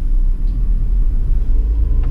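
A Citroën Aircross Shine 2018 with a six-speed automatic gearbox pulls away smoothly, heard from inside as a steady, low engine and road rumble that holds even and close throughout with no voices.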